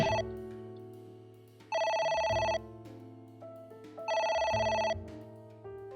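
Telephone ringing in the video game AI The Somnium Files, two loud electronic bell bursts over steady synthesized background music, with no talking.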